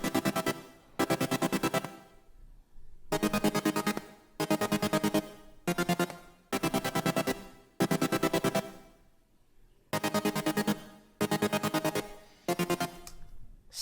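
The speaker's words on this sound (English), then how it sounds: "the chords sound like this" Future bass chords from a Sylenth1 synthesizer, bright and dense, hit in rhythmic stabs with short gaps between phrases, loud and close, without voices.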